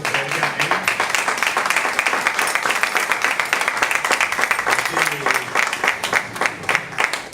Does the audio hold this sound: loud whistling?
no